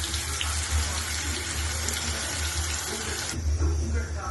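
Liquid pours steadily into a pan while pirandai thokku is cooked, with oil already tempered with mustard seeds and curry leaves. The pour makes a continuous close splash that shifts in tone near the end.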